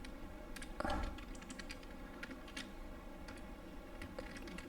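Faint, scattered keystrokes on a computer keyboard as Pascal code is entered, light irregular clicks with one slightly firmer press early on, over a quiet steady room hum.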